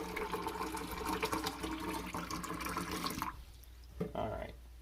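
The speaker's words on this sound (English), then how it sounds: "you just want to put in about 350 milliliters of water" About 350 milliliters of water runs from a tap into a measuring glass for pizza dough, a steady splashing gush that stops sharply after about three seconds, followed by a few faint drips and clinks.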